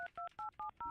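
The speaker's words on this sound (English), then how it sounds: "Calling Michelle the bedside princess phone" Touch-tone dialing on a bedside landline princess phone: five crisp dual-tone beeps in a steady, quick rhythm, close and clear with no talking.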